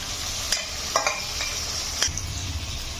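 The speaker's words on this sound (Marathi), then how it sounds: "एक ते दोन मिनटं छान कांदा आणि टोमॅटो आपल्याला परतून घ्यायचा आहे" Onion and tomato sizzle while a spatula stirs them in a pan for a spiced vegetable pulao, giving several sharp scrapes and clinks over a steady close frying hiss, with no voices.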